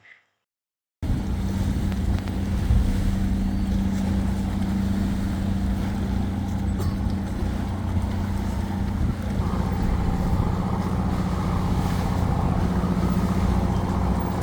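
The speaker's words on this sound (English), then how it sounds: "Lot of boats coming and going, and it is very noisy." After a moment of silence, a loud steady drone of boat engines rumbles close by at a busy river harbor in Santarém, Brazil, with wind buffeting and busy harbor noise throughout.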